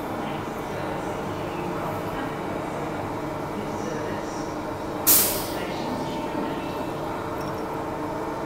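A train's air brake or door mechanism lets out one brief, sharp hiss of air midway through, set against the steady hum of a waiting train at a station.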